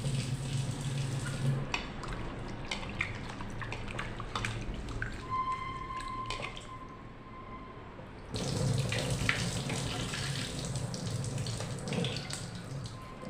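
A kitchen tap runs steadily while a farm chicken is washed, a close, continuous splashing that drops briefly midway and then returns at full strength.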